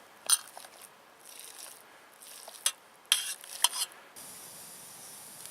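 Ground beef frying in a pan at a campsite, a soft continuous sizzle broken by a few sharp scrapes and clinks of a utensil against the pan.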